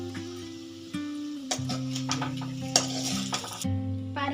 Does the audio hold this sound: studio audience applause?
no